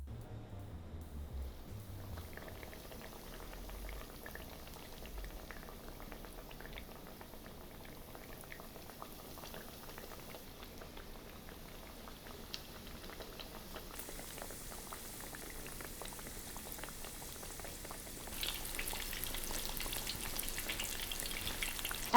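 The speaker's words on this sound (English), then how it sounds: "Frying at a low temperature of 150 degrees Celsius makes the meat tender and juicy." Pork cutlet for tonkatsu fries in oil at a low 150 °C, a steady soft crackle and bubbling that runs unbroken for over twenty seconds and grows slightly louder toward the end.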